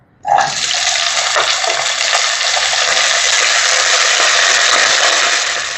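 Running water gushes from a tap over cut brinjal as it is washed, a loud, steady rushing stream that starts suddenly and holds constant, with faint handling noises underneath.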